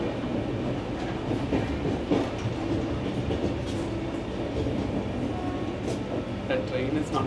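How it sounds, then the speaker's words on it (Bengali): Deccan Queen Express train approaching through fog on the Pune–Mumbai line: a steady rumble of rolling wagons with clickety-clack wheel noise, while people talk over it. "And the train will come now."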